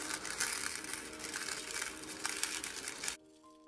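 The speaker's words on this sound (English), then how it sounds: "so I'll pour some stones in there." Small stones poured into a resin pyramid mold give a steady, close rattling and crunching for about three seconds, then stop abruptly, leaving near silence.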